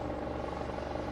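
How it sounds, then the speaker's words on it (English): Helicopter flying low nearby, heard as a steady broadband rotor and engine drone, continuous and fairly even in level throughout, with no speech over it. "Jesus, we got a helicopter going here."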